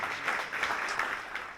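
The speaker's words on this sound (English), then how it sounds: "Big round of applause." Audience applause at a men's health week armwrestling event, a brief burst of many hands clapping in a dense, even wash that tapers slightly at the end.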